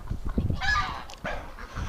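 Geese at a farm wintering ducks and geese give a few loud, close honks in short bursts, with brief gaps of background noise between calls.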